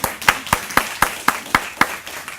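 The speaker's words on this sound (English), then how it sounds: "Give yourselves a round of applause here." Members of a professional association at an annual general meeting clap in a steady, fairly sparse rhythm, individual sharp claps spaced about a quarter second apart rather than a full roar.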